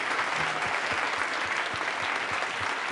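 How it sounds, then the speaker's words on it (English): An audience at a panel talk on news and opinion gives a round of applause for the guests, a fairly quiet, steady wash of clapping that continues evenly for a few seconds. "can we have a generous thanks and round of applause for our guests here, Chris Worthington and Bob Collins."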